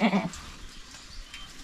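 A single goat that has just given birth on a family farm lets out one short, close bleat, followed by faint farmyard background noise.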